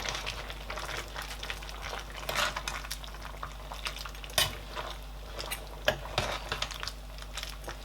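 A spoon clinks and scrapes irregularly in a pot of chicken and yam pepper soup being stirred, with a low steady hum underneath; close, moderately quiet, no talk.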